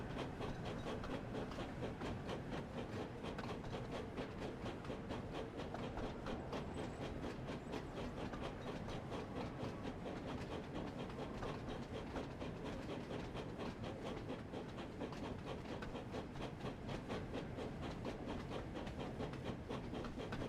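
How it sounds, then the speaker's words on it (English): Steady rumble of a long train rolling along its tracks in the Thomas & Friends: Wonders of Sodor video game, continuous and unbroken with faint clickety-clack and hiss over a broad low drone. "Oh, this is a pretty long train so far."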